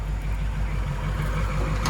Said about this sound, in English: Nothing quite like a Ford Flathead. Really, really nice running motor.